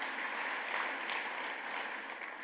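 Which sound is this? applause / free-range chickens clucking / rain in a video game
applause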